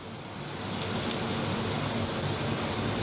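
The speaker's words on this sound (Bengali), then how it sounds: "তো এইভাবেই আমি সবগুলোকে ভালোভাবে ভেজে নেব।" Paneer fries in hot oil, giving a steady, dense crackling sizzle up close that builds over the first second and then holds evenly, with no talking.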